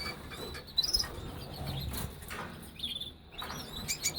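A recessive white male canary gives faint, scattered high chirps and short tweets close by in an otherwise quiet room.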